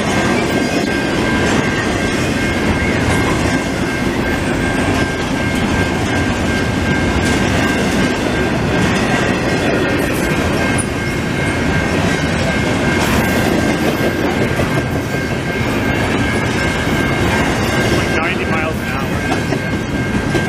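A long CP freight train roars through the Beaurepaire level crossing in Montreal, with a loud continuous rumble, rhythmic wheel clatter and a steady high tone throughout, close by and sustained.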